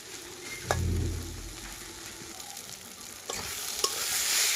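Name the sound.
tomato bharta with coriander leaves frying in a pan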